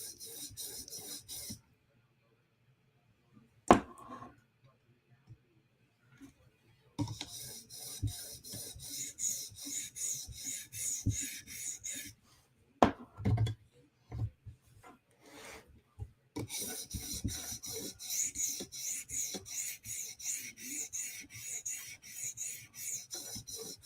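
Spyderco PM2 tanto knife drawn across a 400 grit sharpening stone in repeated rasping strokes, steady scraping passes broken by short pauses, close and fairly loud with no talk.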